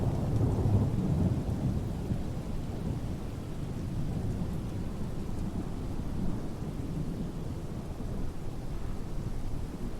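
Rain and thunder over Islamabad airport in Microsoft Flight Simulator 2020, with a steady hiss of rainfall and low rumbling thunder that swells at the start and rolls on beneath the downpour.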